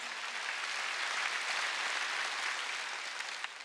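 A church congregation claps during a Sunday worship service, dense and even applause from many hands filling the room steadily throughout.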